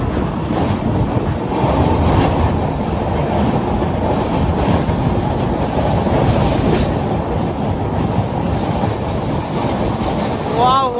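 Train crossing the Godavari road-cum-railway bridge, heard close from on board: a loud, steady rolling rumble with clattering wheels and occasional metallic squeals.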